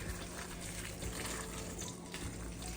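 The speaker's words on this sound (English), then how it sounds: "I want to wilt it, so I'm gonna add some boiling water" Boiling water pours steadily into a bowl of spinach in a continuous soft gushing stream, fairly quiet and unbroken, with no talking.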